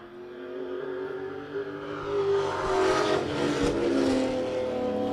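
Race cars roaring around the oval at Wiscasset Speedway as one completes a pass, a loud sustained engine drone that swells and rises in pitch as a car passes close by, with no talk over it.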